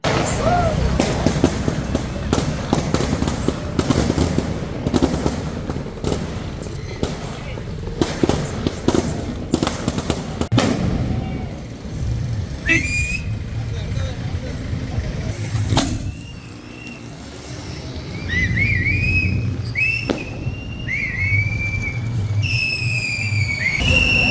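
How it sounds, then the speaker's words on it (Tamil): Firecrackers burst in rapid crackling volleys during a street election victory celebration, with sharp whistle blasts later and traffic and crowd noise throughout. "நகர வீதிகளில் கொடிகளுடன் வலம் வந்த இளைஞர்கள் விசில் ஊதியும் பட்டாசுகளை வெடித்தும் தேர்தல் வெற்றியை பிரமாண்டமாக கொண்டாடினர்."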